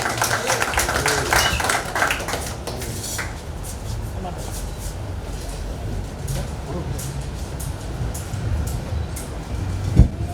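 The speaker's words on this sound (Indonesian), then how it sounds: "tepuk tangan sekali lagi dong" Audience applause on an Indonesian stage show, a dense burst of clapping at the start that fades into a steady background hum, with faint scattered claps later.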